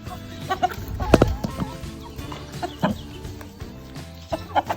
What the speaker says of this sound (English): He's the one making all those little clucks